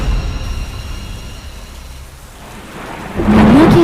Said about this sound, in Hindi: तेज बरसात में एक बवंडर सा उठने लगा